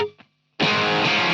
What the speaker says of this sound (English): Let's turn our distortion back on, and we'll switch over to just the regular distortion.